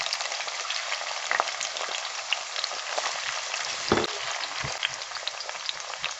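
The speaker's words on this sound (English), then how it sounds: "And we're just going to saute this for 2 to 3 minutes." Onions, garlic and ginger sauté in a hot pan with a dense, steady sizzle throughout, broken by a few soft stirring knocks of a utensil.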